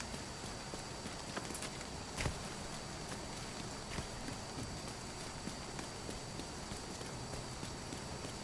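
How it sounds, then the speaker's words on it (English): Faint, steady hoofbeats of a horse in the video game Division 2 clip-clop in a regular walking rhythm beneath a constant hiss, with a few sharper knocks. "That sounds like a horse, not a puppy."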